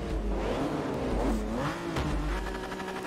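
A Lamborghini V12 in Forza Motorsport 3 revs and shifts through a few rising and falling engine sweeps, moderately loud and continuous, with no one talking.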